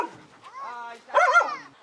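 A dog barks and yips close by, a few sharp calls with a short whimpering quality, mixed with voices nearby.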